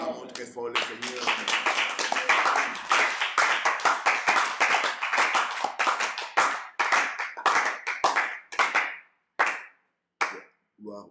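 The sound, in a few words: congregation clapping to acclaim the Lord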